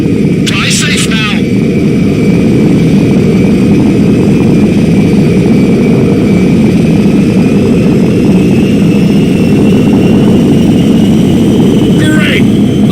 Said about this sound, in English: Great! Fighter jet!